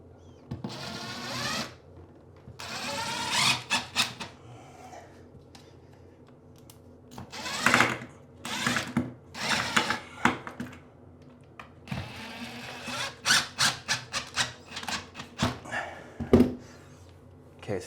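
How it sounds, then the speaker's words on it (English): A power drill drives galvanized screws into a toilet extension ring over tile, several separate whirring bursts of rising and falling pitch, loud and close, with quiet pauses between screws. "just take some galvanized screws and screw this extension ring"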